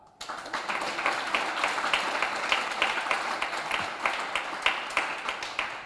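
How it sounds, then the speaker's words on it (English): Sustained applause from a conference audience, dense and steady throughout with crisp individual claps standing out, fairly close and loud with no talking over it. "let's give the final clap"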